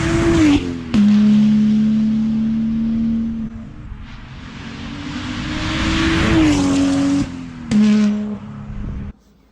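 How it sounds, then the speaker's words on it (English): A BMW M car engine revs on track, loud and close, with sustained high-rpm pulls, abrupt cuts between gears and a brief lull before climbing again. "Yeah, that's what the car sounds like"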